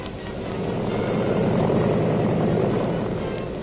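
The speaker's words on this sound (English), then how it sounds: "The first infantry plane is coming in." A 1942-era military transport plane carrying infantry drones steadily as it comes in to land, a broad propeller-engine roar that swells slightly and holds at moderate distance.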